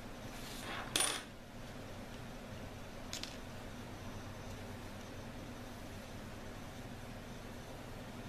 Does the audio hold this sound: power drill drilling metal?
no